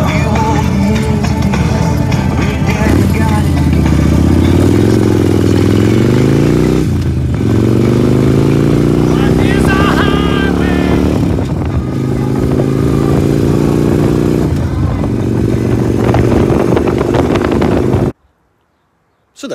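Motorcycle engine during a ride, a loud steady drone that rises and falls through gear changes with wind rush over the microphone, cutting out abruptly near the end.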